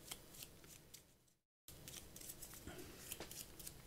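Magic: The Gathering cards being shuffled close up in a steady run of crisp riffling flutters, broken by a brief silent gap before the shuffling resumes.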